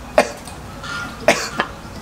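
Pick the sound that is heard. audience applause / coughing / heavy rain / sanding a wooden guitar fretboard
coughing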